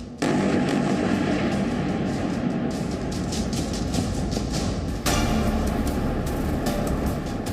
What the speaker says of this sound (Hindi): रात के अंधेरे में धमाके की आवाज और उठते आग के शोले